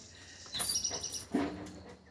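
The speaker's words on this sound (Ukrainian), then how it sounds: "Якась така пташка прилетіла співає." A small bird sings outdoors near a potato garden, giving a few bright, high chirps and a short whistled note. The calls are brief and close over quiet background.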